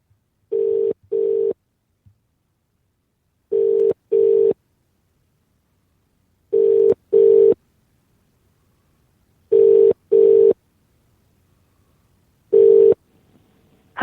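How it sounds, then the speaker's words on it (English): Telephone ringback tone from a call placed during a live radio show, loud paired electronic rings repeating about every three seconds, five rounds, alone with no talking. "And let's phone again."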